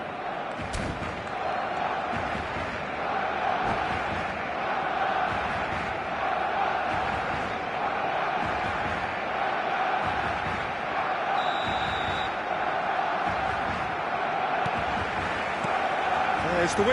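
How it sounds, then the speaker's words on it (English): Stadium crowd noise in the eFootball video game on PS5, a continuous roaring, cheering full crowd with occasional whoops and bangs, loud and sustained for the whole stretch. "The stadium is full of noise and energy."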